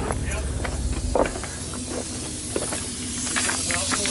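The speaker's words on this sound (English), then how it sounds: "Hey, hold on, stop a minute. I hear air." Steady air hiss escaping from a damaged tire valve stem on an off-road vehicle at an off-road event, faint and continuous beneath outdoor noise and brief voices.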